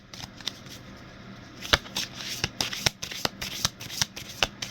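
Tarot moon cards being shuffled by hand, a steady run of crisp riffling slaps and soft card rustles, close and fairly loud, with no talking over it.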